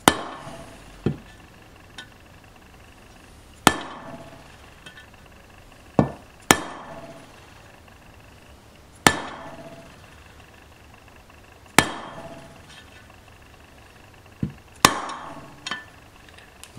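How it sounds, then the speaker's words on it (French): Sharp metallic taps of a hammer on a socket seat a gearbox bearing in a 50cc motorcycle engine, about a dozen light, spaced strikes with short ringing decays, close up in a quiet workshop. "à l'aide d'une douille bien passée, bien en face, l'aider à descendre dans son emplacement"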